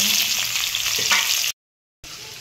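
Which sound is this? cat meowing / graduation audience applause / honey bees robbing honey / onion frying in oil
onion frying in oil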